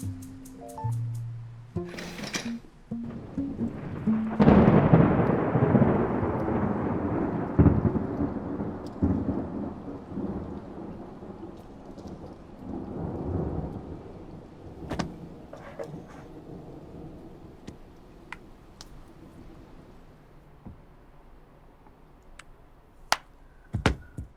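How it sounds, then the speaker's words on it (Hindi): A thunderstorm at night, with rolling thunder building to a loud, sustained rumble over steady rain, then easing into quieter rainfall marked by scattered sharp drips and clicks. "तूफान हमेशा काम करने के लिए जगा देते हैं।"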